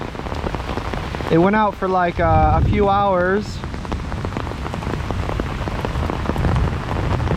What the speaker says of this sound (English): It was raining a lot harder not too long ago.